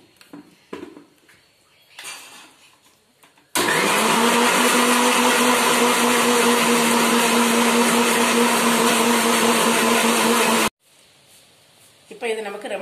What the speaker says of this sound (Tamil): இப்போ நம்ம இதை மூடி போட்டு மிக்சியில் அரைச்சிடலாம்